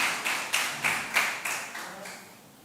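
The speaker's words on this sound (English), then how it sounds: "we deserve a round of applause for that" An audience at a Ministry of Education results event claps in a rhythmic, near-unison pattern. About eight evenly spaced beats carry a moderate room echo, with no talk over them.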